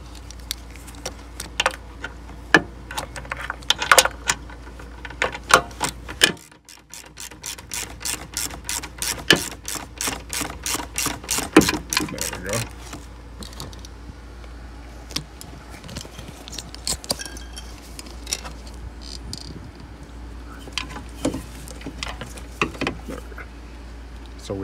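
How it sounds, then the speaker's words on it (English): A wrench works at a 17 mm bolt under a Mazda Miata seatbelt unit, producing bursts of fast metallic ratchet clicks and clanks, with a long rapid clicking run in the middle and scattered knocks, close and moderately loud. "still working on getting this 17 millimeter bolt off the bottom of the seatbelt unit"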